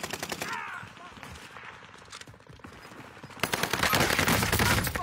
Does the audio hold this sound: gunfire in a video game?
yes